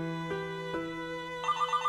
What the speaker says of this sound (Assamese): এওঁৰ ফোন আহিছে